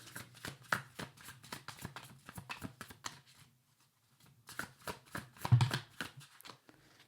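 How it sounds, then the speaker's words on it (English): A deck of zombie-themed cards is shuffled by hand in close, crisp bursts of riffling and flicking, with a brief quiet pause partway through. "I'm going to shuffle and see whatever card comes out for this week."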